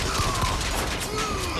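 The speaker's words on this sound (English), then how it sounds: "I love how my gun blows." Dense, continuous gunfire from a weapon in Bioshock Infinite, heard as a loud wash of rapid bangs and mechanical clatter that stays up close throughout.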